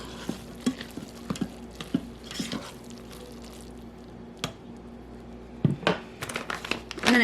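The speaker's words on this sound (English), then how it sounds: "So we take off the lid and stir everything around." Cooked food stirred in an electric pressure cooker pot just after quick release, spoon scraping and squishing through the mixture in scattered bursts, fairly close and moderately quiet, with soft drips and faint sizzling between strokes.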